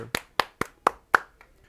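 Five sharp hand claps in a quick, even rhythm, close and loud, followed by a couple of faint taps.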